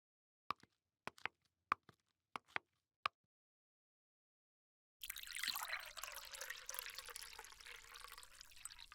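Water is poured into a glass in an indoor room, a steady close splashing pour lasting about four seconds after a few sharp clinks and taps.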